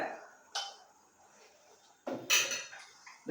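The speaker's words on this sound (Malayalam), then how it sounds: "ഇനി ഈ സാധനം ഞാൻ കുക്കറിനെ ടോപ്പ് വെറുതെ അടയ്ക്കണല്ലോട്ടാ" Metal lid set loosely on a pressure cooker while making chicken biryani, giving a few quiet clanks and scrapes: one brief knock, then a cluster of louder metallic clatter after a pause.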